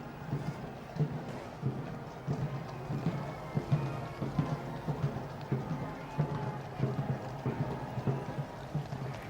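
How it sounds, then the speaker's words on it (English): Horses' hooves clip-clop steadily at the Trooping the Colour parade in London in 2014, a rhythmic clatter from mounted riders, moderately distant, under open-air ambience with some wind. "He's riding Oscar today."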